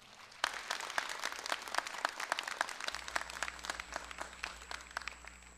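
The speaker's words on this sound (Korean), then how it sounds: "여러분, 권호섭 선배를 큰 박수로 맞아주시기 바랍니다." Audience clapping to welcome a speaker at a graduation event, a sustained round of many hands with sharp individual claps, fairly close and steady throughout.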